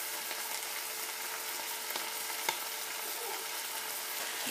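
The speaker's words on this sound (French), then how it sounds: "Je laisse revenir le tout quelques minutes." Meat filling with chopped parsley frying in a pan, a steady close sizzle with faint scattered pops throughout, no voices.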